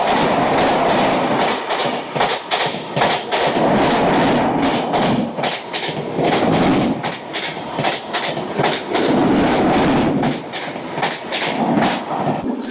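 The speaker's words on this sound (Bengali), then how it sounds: "আমরা প্রবেশ করলাম আমাদের আজকের যাত্রার ষষ্ঠ স্টেশন ওড়িশা রাজ্যের বালাসোর জেলার বাস্তা স্টেশনে" Shalimar Puri Sri Jagannath Express pulling into a station in Odisha, steady loud rumble with rapid clickety-clack of wheels over rail joints and occasional heavy thumps, continuous and close throughout.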